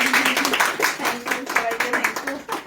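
An audience claps for a former student at a beautician training success-story gathering, with a steady patter of hands running under a speaking voice for the whole stretch.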